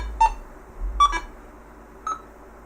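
A Minelab Go-Find 60 metal detector gives three short electronic beeps as it powers on, each a clean tone spaced about a second apart and heard alone against quiet background.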